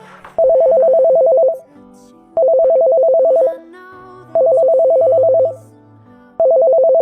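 Phone ringtone for an incoming call, a loud electronic trilling tone repeating in four bursts, each about a second long with short gaps, close and clear.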